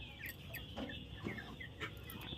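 Several chickens cluck softly and intermittently, their short calls scattered over a quiet background.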